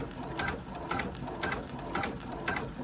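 A home embroidery machine stitching, giving a close, steady mechanical clatter with rhythmic needle pulses roughly every half second and no talking.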